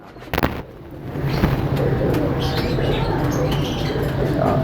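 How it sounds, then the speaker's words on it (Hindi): A Bagla pigeon, an old pigeon breed, coos in low soft bursts that run steadily through the clip, close by, with some faint chirping and background noise around it. "ये बगला कबूतर है"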